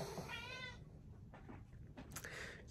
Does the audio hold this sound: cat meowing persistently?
yes